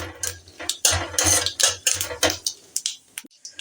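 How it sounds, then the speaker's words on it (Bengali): A metal spoon stirs a cumin, split green chilli and bay leaf tempering in a pan for a vegetarian taro-leaf dish, giving a run of close, irregular clinks and scrapes with brief pauses. "দু সেকেন্ড ধরে এটাকে নেড়ে নিয়েছি"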